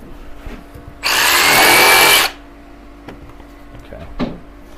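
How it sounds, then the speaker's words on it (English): A jigsaw cuts wood at an old watermill under roof repair: a single loud burst of buzzing lasting about a second, nearby, followed by quieter handling knocks and a brief clunk. "I might clean that up a little bit with the jigsaw"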